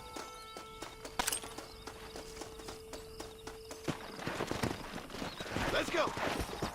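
Horse hooves clip-clopping in Red Dead Redemption, with a neigh and game sounds, the footfalls growing busier and louder toward the end while voices talk over them.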